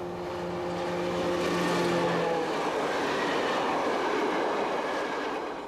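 A Belgian Class 62 diesel locomotive hauling late-1950s M2 coaching stock runs steadily on the Ghent line, a continuous broadband rumble and rail roar with a low engine drone fading early on, no voices.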